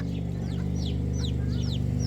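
Hen clucking in a low, steady, rhythmic stream close by, with brief higher chirps from other birds scattered over it and no voices.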